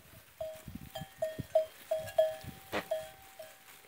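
A herd of goats moves along while their bells ring out in a steady run of clanks and tinkles, with scattered hoof and footstep sounds underneath.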